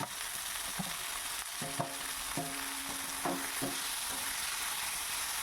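Garlic and onion fry in a pan with steady crackling sizzle, broken by a few clattering stirs and scrapes of a utensil against the pan; no voices.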